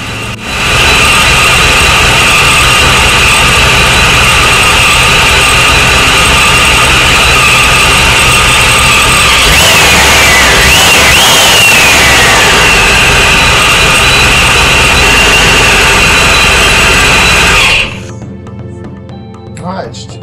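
A supercharged Corvette engine runs loud and steady on its first start, with a high whine over the rumble and a brief rise in revs midway before it cuts off; voices are heard beneath it.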